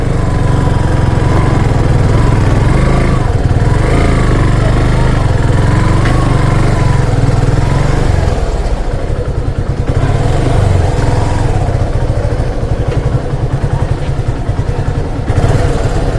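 A motorcycle engine idles steadily and loud and close while the rider parks near an office, with a low rumble throughout and a brief voice in the background.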